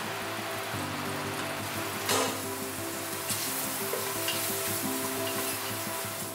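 Dried shiitake mushrooms sizzle steadily in a hot pan, a dense crackling hiss running throughout with a brief louder burst near the start, close and fairly loud with no voices.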